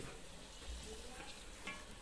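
A soft, continuous sizzle of sweet dumplings (nevri) frying in hot oil in a wok, faint and steady with a few light bubbling crackles.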